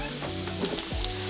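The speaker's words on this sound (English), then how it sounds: "I'm basically just going to continue to work this burger and onion mixture over here until it is browned" A burger and onion mixture browns in a hot pan for chili macaroni and cheese, giving a steady close sizzle with a few soft stirring scrapes.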